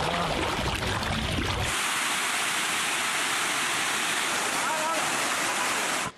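Floodwater rushes through city streets in Kyiv after a torrential downpour, a loud, steady roar of churning water that stays close and continuous. For the first couple of seconds it is muddied by lower, rumbling noise.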